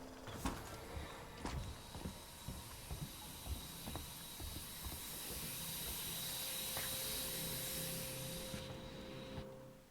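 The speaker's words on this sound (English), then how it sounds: "Eerie ass fucking steam noise." Steam in the Alien Isolation video game hisses in a long continuous rush that swells and holds for several seconds, joined by a thin high tone, with sharp mechanical clicks and knocks scattered through the first half.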